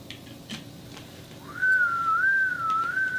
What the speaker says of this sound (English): Just a whistle, a straight whistle.